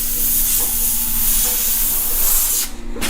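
An airbrush sprays white paint onto a T-shirt in a steady, close, continuous hiss that cuts off near the end.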